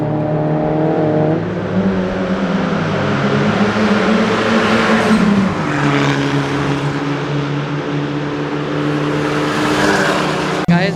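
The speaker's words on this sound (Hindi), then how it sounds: "एक बार आपको एक्सपीरियंस कराता हूँ कितनी अमेजिंग साउंड लगती है इन सब कार की" Tuned cars fitted with aftermarket exhaust systems lapping a racetrack during a track day, a loud continuous engine drone with shifting pitch as cars pass close, no talking.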